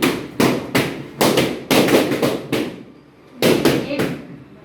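Balloons burst one after another by hand in a group relaxation exercise, a run of sharp loud pops in quick clusters with a short pause before a final few.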